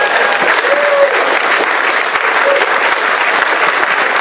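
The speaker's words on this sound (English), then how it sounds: "I think that's worthy of a round of applause" Dense, loud audience applause fills the whole stretch as a steady wash of many hands clapping, with no talk over it.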